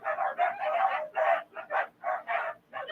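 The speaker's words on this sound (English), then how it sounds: "I'm sorry about the dogs. So they'll stop in a minute." Several dogs barking repeatedly in quick, overlapping bursts, close and fairly loud, with no talk over them.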